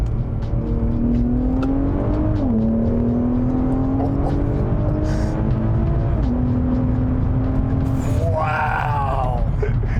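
A Stage 2 turbo, AWD Infiniti Q60 making over 540 wheel horsepower accelerates hard in manual mode, its engine note climbing through rising pulls with quick drops at the gear shifts, heard loud from inside the cabin with a brief whoosh near the end.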